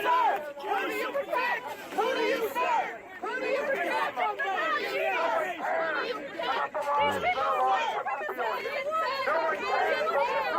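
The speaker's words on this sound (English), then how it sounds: "Some of the crowd here even yelling at the police officers." Protesters outside the White House yell and shout at police officers at a barricade, a dense, loud tangle of angry overlapping voices that continues almost without pause.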